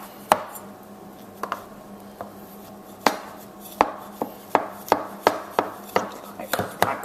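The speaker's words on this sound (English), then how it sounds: "cut them into squares" A big knife cuts through baked flapjacks into squares, landing as a series of sharp, distinct thuds on a board, sparse at first, then quicker and more regular toward the end.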